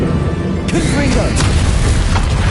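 A Confringo blasting spell cast in the Hogwarts Legacy game, a loud booming burst with crackling impacts over dense battle noise, a voice speaking briefly in the mix.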